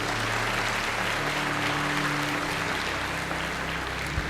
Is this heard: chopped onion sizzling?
no